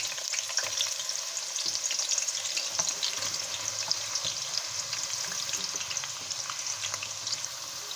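Sliced onions sizzle steadily in a generous pool of hot oil for nihari, a dense, even crackle with faint stirring, close and moderately loud with no voices.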